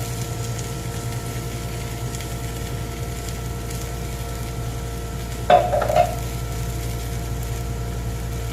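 A spoon stirs tomato paste and tomato in a pan for a lasagna sauce, a soft, steady sizzle and stir under a low hum, with a brief louder scrape of utensil against the pan midway; no speech.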